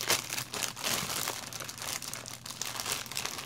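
A paper envelope stuffed with contents crinkles and rustles close up as it is handled, with continuous crumpling and scratchy paper noise and no voices.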